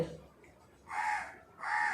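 A crow caws twice outdoors, two harsh, moderately distant calls separated by a short pause, over faint background noise.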